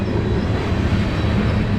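Train passing near the Hyde Park foot bridge, a loud steady low rumble and rolling roar held close throughout with no pauses.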